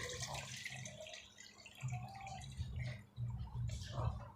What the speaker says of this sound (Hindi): अब उसका पानी हम अलहदा कर देंगे यहाँ से।